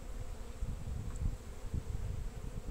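Honeybees drawing out wax foundation in young splits at an apiary, a steady low buzzing hum of many insects close by, continuous with slight swells and no talking.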